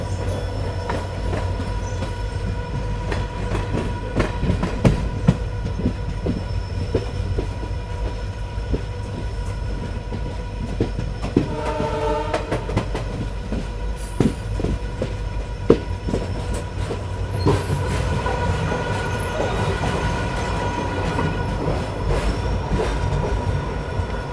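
A GHY-LEDO Intercity train runs on rails near Mariani Junction, giving a steady loud rumble of wheels and carriages with a brief wheel squeal partway through and no voices.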